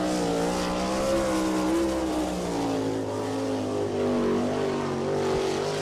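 A sprint race car, number 97, screams around Attica Raceway Park in Ohio on a qualifying lap, its engine note loud and sustained with steady harmonic whine that rises and falls slightly through the corners.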